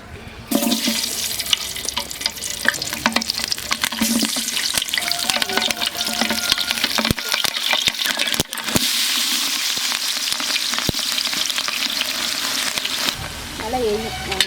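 Whole spices like cinnamon, cloves and cardamom hit hot coconut oil in a large outdoor pot for chicken dum biryani, giving a loud, steady, hissing sizzle with occasional clatters of stirring and a brief voice near the end.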